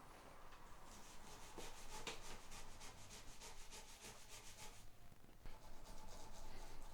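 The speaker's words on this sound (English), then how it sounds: "we're just going to scrub the fretboard" A toothbrush with soap scrubs the fretboard of a Seagull S12 Coastline acoustic guitar in quick, rhythmic back-and-forth strokes, a close, continuous bristly rubbing heard on its own.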